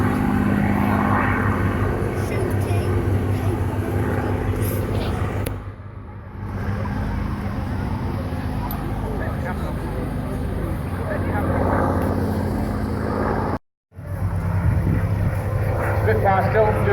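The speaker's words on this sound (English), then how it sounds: "Spitfire still doing workout" A Spitfire performing at the Welshpool Air Show 2015, its piston engine droning steadily overhead with a rising and falling tone, under continuous crowd chatter and commentary, with two brief dropouts.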